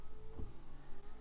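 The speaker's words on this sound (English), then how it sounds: "Now we can hear that pump operating." Washer pump of a BMW 1 Series, mounted in the engine bay under the bonnet and feeding fluid to the rear washer, gives a brief low hum lasting under half a second over a steady background drone.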